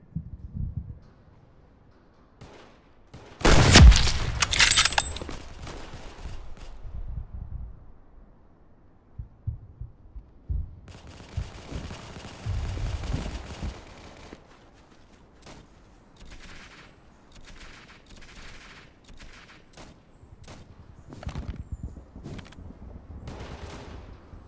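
Gunfire in a wartime drama set in 1968, with a sniper ahead: a loud sharp burst near the start, a second rougher stretch of shots around the middle, then scattered lighter cracks and rumbling over the rest.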